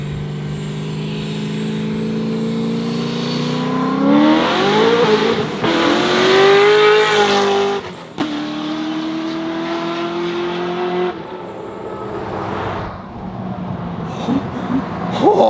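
A loud C6 Corvette roars past in a flyby, its engine note climbing as it nears, peaking close, then dropping and fading as it pulls away.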